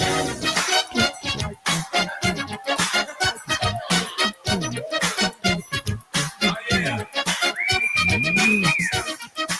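Several whistles blow over a busy, rhythmic music track, with one long sustained whistle tone near the end.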